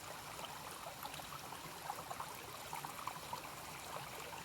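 Clear, cold running water in a stream along the Eagle Rock Loop hiking trail, a steady close rushing and trickling wash with no breaks.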